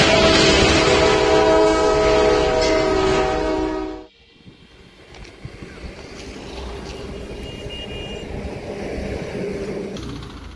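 A high-speed Norfolk Southern train at a town crossing, a loud sustained horn blast that cuts off abruptly, followed by rumbling, rattling rail noise as the train passes close by.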